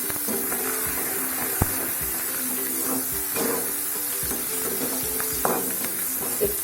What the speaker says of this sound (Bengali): এবার পেঁয়াজ কুচিগুলো দিয়ে দিচ্ছি